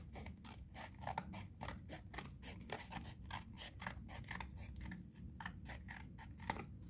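Scissors snipping through paper to cut out a circle for a CD and tissue-roll doll craft, a steady run of quick, close, crisp cuts with no talking.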